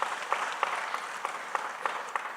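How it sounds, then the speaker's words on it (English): Audience applause at a cooperative society annual general meeting, a steady dense wash of clapping from a crowd with a few sharper individual claps standing out in a regular rhythm. "Please clap for yourselves."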